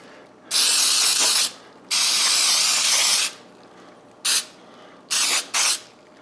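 Aerosol cooking spray hisses onto small baking pans in five bursts, two long and three short, loud and close with quiet pauses between.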